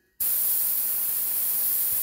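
An airbrush starts abruptly and sprays a steady, loud, hissing jet of air and paint for line work and shading. The hiss is close, holds even after the start and plays with no talking.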